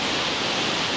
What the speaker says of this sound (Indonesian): sekarang sungai adalah kuat banget guys. Bisa dengar kan?